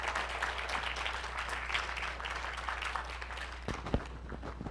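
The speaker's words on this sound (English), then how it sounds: "let's give him a round of applause" An audience at a luncheon lecture claps steadily, a dense continuous patter of many hands over a low hum, tapering with a few last claps near the end.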